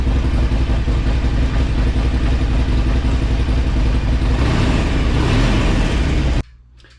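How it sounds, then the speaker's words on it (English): A Harley motorcycle engine idles roughly up close, a loud uneven chugging putter that continues for several seconds before it cuts off abruptly into near silence. "I guess I'll let her idle out for a while. She sounds kind of rough."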